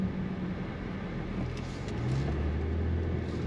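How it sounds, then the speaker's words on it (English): A 2026 Range Rover Velar SUV with an 8-speed automatic accelerating on throttle, a steady engine rumble and road roar heard from inside the cabin, rising slightly in pitch toward the end with no voices. "But let's go on throttle again. On throttle, here we go. Nice smooth shifts from the 8-speed."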